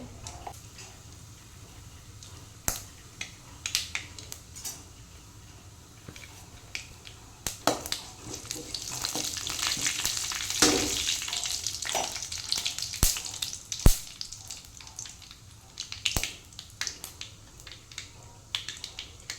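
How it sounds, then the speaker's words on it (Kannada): Mustard seeds and cumin splutter in hot oil in a pan: scattered sharp pops and crackles over a faint sizzle, growing busier midway, then settling into sparse snaps. "ಇವಾಗ ಸಾಸಿವೆ ಜೀರಿಗೆ ಹೊಡೆಯಿತು."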